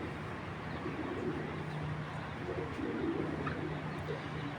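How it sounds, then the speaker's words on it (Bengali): A kala bagha (black) racing pigeon of an old Giribaz tournament strain coos softly and steadily in a low, repeated murmur, with light outdoor background noise and no talking. "দেখেন এটা কালা বাঘা কবুতর"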